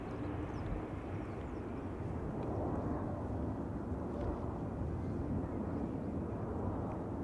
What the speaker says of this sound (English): KLM A321neo arriving from Vienna, flight 1902